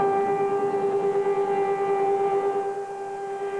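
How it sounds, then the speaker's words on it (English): A civil defense siren in Israel sounds for Holocaust Remembrance Day, a steady sustained wail held at one pitch throughout, loud and unbroken, with no speech. "Sirens blared for 2 minutes in memory of the victims."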